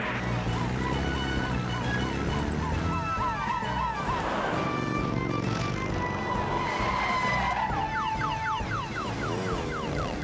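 Fast engine roar and screeching tones from a speeding car in a cartoon chase, loud and continuous throughout, with shifting whines and squeals layered over a steady rumble.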